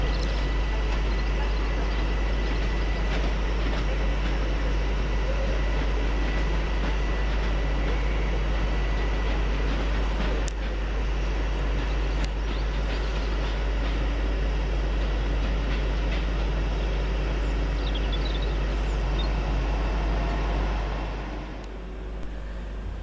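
Class 378 London Overground electric train pulling out of Watford Junction station, bound for London Euston. A loud, continuous rolling rumble with wheel clatter lasts nearly the whole time and eases off near the end.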